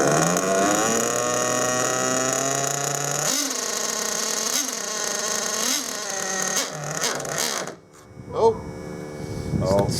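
A stock car engine still cold after sitting idle for weeks roars loudly, its pitch dipping and surging with uneven revs, then cuts out abruptly near the end, leaving a brief sputter and quiet.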